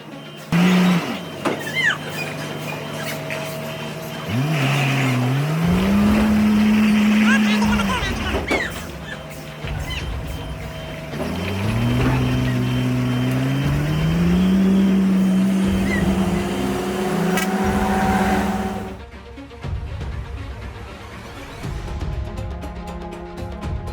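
A heavy truck labouring uphill, its engine droning and rising in pitch through strained gear changes, loud and close, with a brief hiss near the end.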